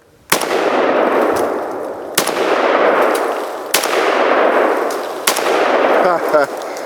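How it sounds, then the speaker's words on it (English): Four loud rifle shots from a military rifle fired up close at a steel target beside a cinder block, each sharp crack ringing out into a long metallic clang and echo, spaced about one and a half seconds apart. "when you're shooting up close, yeah, you can hit some steel that you didn't mean to hit if you're not careful"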